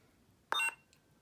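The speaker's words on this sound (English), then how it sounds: "hold it down for 2 beeps." A custom Luke ROTJ inspired lightsaber hilt with a Vader sound font gives a short electronic beep as its button is held, a brief bright tone from close by in an otherwise quiet room.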